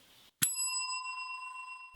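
A bright notification bell sound effect rings once after a soft click, its clear metallic tone sustaining and slowly fading with no talk over it.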